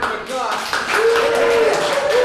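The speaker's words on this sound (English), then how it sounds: "Cheer for Kurt" A festival audience applauds performer Kurt at a peace concert, a sustained burst of clapping with a voice speaking over it.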